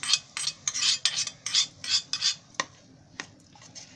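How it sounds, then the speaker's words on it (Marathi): A spoon stirs and scrapes hot ghee tempering into a sweet potato kachori filling in a metal container, giving a run of close, bright clinks and rasps, then a few sparse taps. "ही फोडणी अशी घीमध्ये अशी म्हणजे अशी व्यवस्थित करून घ्यायची, ढवळून चांगली"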